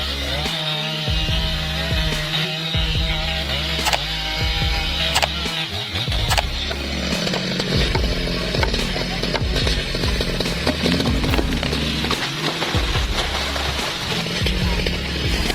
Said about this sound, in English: The worker is sawing carefully and professionally, cutting bit by bit to ensure that the trunk section is removed safely and precisely